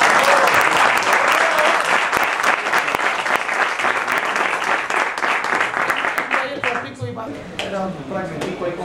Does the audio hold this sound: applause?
yes